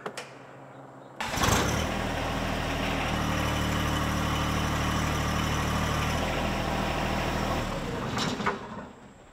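A compact tractor engine idles steadily while its front loader holds a heavy load aloft, a loud, even mechanical drone starting abruptly after a quiet moment and running unbroken before easing at the end.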